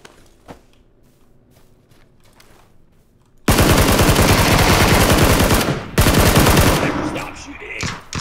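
Sustained automatic gunfire erupts in PUBG after a quiet stretch with a few faint shots, a loud rapid burst running several seconds with a brief break, then tapering off.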